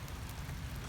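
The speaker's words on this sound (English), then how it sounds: "It's now pouring rain here." Heavy rain pouring down at an allotment after a long drought, a faint steady hiss of drops drumming on surfaces with no voices.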